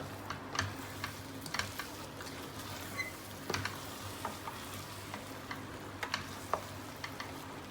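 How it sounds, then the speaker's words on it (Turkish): Food frying in a pan with pomegranate molasses being added, stirred with soft clicks and scrapes over a low steady sizzle, close and fairly quiet. "Ben de şimdi güzelce karıştırırım."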